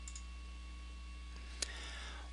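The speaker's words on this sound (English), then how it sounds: "Let's go ahead and give that a click" A single crisp computer mouse click on a link, sharp and isolated against a quiet electrical hum, with a fainter tick or two earlier.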